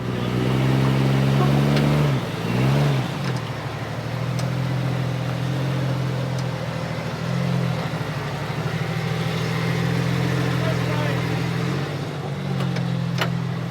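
An off-road vehicle's engine holds a loud, steady rumble as it climbs an obstacle, with a brief rev dip early on and small pitch shifts later; voices are heard over it.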